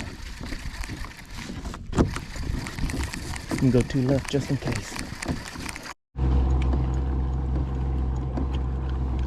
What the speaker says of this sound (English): there's a boat coming